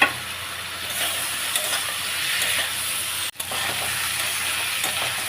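Elephant foot yam chunks fry in a pan with spice paste, giving a steady close sizzle and hiss throughout, with a brief drop and a small clatter partway through.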